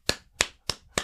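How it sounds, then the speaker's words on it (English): Four sharp hand claps land at an even, unhurried pace, close and fairly quiet, during a podcast congratulating young people on moving out to live alone. No voices. "You deserve some applause."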